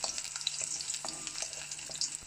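Sweet potato and onion fry over medium heat in a pan, giving a soft, steady sizzle close up with light crackles and the occasional stir.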